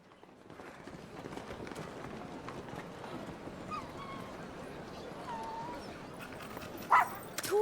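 Torgal the dog from the game Final Fantasy XVI runs with quick, soft, rapid footfalls over a low ambient bed, quiet and fairly close, ending in a brief sharper sound.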